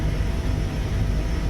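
Airbus H160 helicopter in a VR flight simulator, a steady broadband engine and rotor drone with heavy low rumble, continuous and even throughout with no voices.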